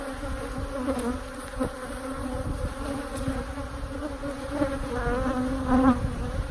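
Honeybees buzz densely and continuously around a beekeeper working an open hive, a close, steady drone with individual bees swelling louder as they pass near.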